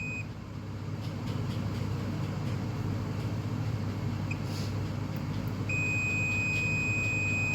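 A multimeter continuity test on a Samsung J4 Core phone board gives a steady high beep tone that starts briefly, stops, then returns and holds, over a constant low electrical hum.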